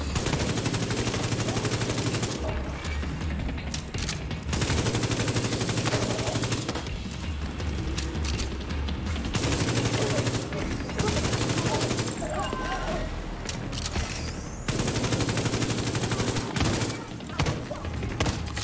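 Dense, sustained covering gunfire in The Division 2, with rapid overlapping bursts and shots filling the whole stretch without pause, loud and close, with players talking now and then underneath.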